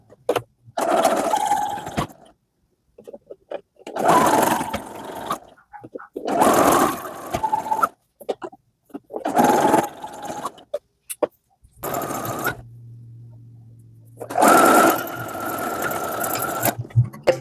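A sewing machine stitches a lined, ruffled blouse in close, loud bursts of rapid running stitches separated by short pauses, with a low steady hum in one gap.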